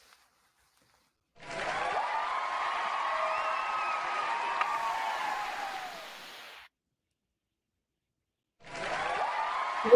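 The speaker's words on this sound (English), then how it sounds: "I get an applause." Audience applause and cheering at a finance and digital marketing talk: a sustained burst of clapping lasts about five seconds and fades out, then after a pause a second round begins.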